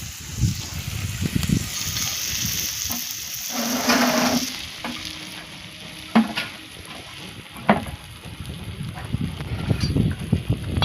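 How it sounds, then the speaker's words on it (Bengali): Tomatoes fry in a pan over an outdoor wood fire, a steady sizzle broken by occasional scraping stirs and soft knocks, with a brief louder hiss partway through. "টমেটো দিয়ে দিয়েছি, একটু ভাজা ভাজা হবে।"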